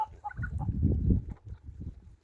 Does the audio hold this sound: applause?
no